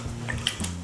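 Ice water being poured over and worked through homemade butter, with soft wet squishing and sloshing close by, a couple of brief splashy squelches over a low, steady background.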